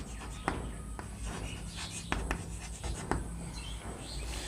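Chalk writing on a classroom board during a spoken English lesson, with scratchy rubbing strokes and several sharp taps as letters are formed, close and clear with no voices over it.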